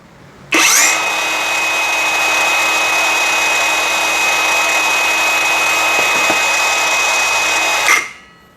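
A mini cordless circular saw spins up at its lowest speed setting and runs alone at a loud, smooth, steady whine for about seven seconds before cutting off.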